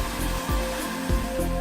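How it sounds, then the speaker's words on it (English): An industrial dryer blows a steady, loud rush of hot air onto melting chocolate, a continuous hiss with a low rumbling undertone and slight wobbles in the airflow. "She has an industrial dryer to speed it up."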